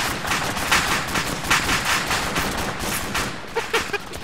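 Dense, continuous bursts of rapid gunfire crackle throughout, with sharper shots popping out near the end; a chaotic battle soundscape with no clear talk.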